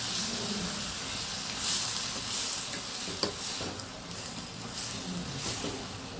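Water splashed into a hot pan of oil-fried eggplant and crushed peanuts, giving a broad sustained hiss and sizzle with stirring scrapes, fairly loud and without any voices.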